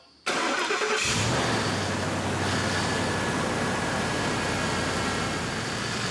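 A freshly built Ford 5.4L 3V truck engine cranks and catches with a loud roar, then settles into a steady, rough idle that continues throughout.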